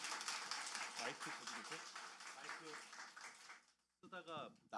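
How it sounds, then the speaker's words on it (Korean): A congregation at a church's Wednesday service applauds warmly to welcome a pastor, a dense close burst of clapping that fades out before a voice begins speaking. "바로 큰 박수로 환영하도록 하겠습니다."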